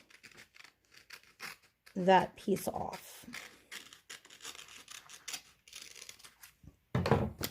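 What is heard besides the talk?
scissors trimming paper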